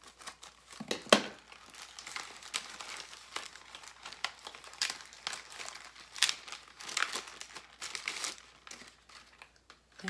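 Crinkling plastic mailer packaging torn and cut open by hand, a steady run of close, dry crackles and rips with sharp bursts, no voices.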